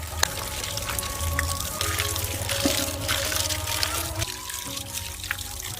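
Water is poured and trickles over cut snakehead fish being washed in a basket, a continuous close splashing with a low background hum.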